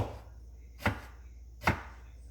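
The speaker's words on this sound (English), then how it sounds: "Cut this like that, lengthwise, and chop them" Eggplant being cut with a kitchen knife on a board, two crisp, isolated chops about a second apart, close and fairly quiet.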